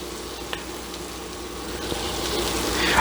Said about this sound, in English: So our onions, what we're doing is we're sauteing them just to get them translucent